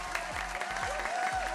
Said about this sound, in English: I need applause.